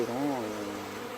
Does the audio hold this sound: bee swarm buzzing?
yes